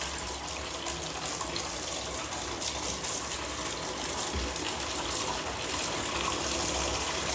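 Water flowing steadily through a discharge outlet during a trial run, a continuous broadband rushing gush that stays loud and even throughout with no voices.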